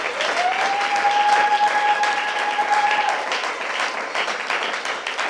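A church congregation applauding for Jesus Christ, with sustained, dense clapping that holds steady throughout and a faint tonal hum in the early part.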